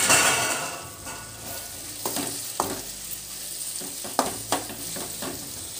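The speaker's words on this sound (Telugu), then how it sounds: "టమాటోస్ కూడా వేసుకొని ఇవి కూడా బాగా సాఫ్ట్గా అయిపోయేంత వరకు బాగా కలిపేసుకొని" Tomatoes being stirred into a tamarind fish curry in a pan, with a steady sizzle and frying hiss throughout and several scraping strokes of a spoon against the pan, close and alone.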